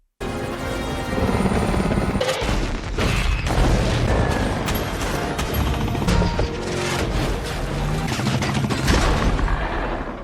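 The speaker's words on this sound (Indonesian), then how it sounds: "kedua belah pihak segera melepaskan tembakan" Dense, loud action-film soundtrack with bursts of gunfire and booming impacts over a continuous mechanical roar, like a helicopter battle.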